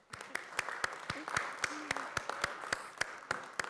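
A small audience at a school board meeting claps in a round of applause, sparse, distinct hand claps in a loose steady rhythm, fairly quiet in a room, with faint background voices.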